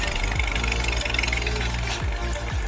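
A Massey Ferguson 240 tractor, stuck in a ditch, runs its diesel engine with a loud, steady, low rumble and a knocking throb. A few deeper thumps stand out from the drone.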